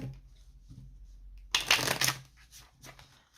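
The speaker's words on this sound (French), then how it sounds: "on va laisser sauter la carte" Tarot cards shuffled by hand, a soft riffling that swells into a loud burst of shuffling through the middle, then trails off into lighter flicks, with no talking.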